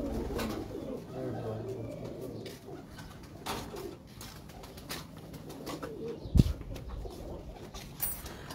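Breeder pigeons coo in a steady low rumble from nearby, with a brief thump partway through and a person talking faintly at times.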